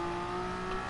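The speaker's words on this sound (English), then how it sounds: "the Chevy, the C8R looks amazing. Just when it's revving its engine, it sounds good" A Chevrolet C8R race car engine revving in a video game, a brief steady high-pitched drone with a strong tonal whine, loud and close, with no voices.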